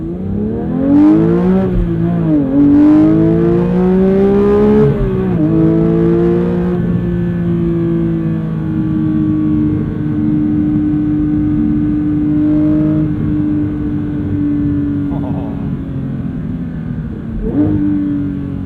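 A Porsche 992 911 GT3 with a manual gearbox launching and accelerating hard, its engine revving loudly and climbing in pitch through several rising sweeps with brief shift dips, then holding a steady high drone, close and continuous.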